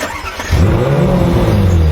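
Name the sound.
Ferrari engine starting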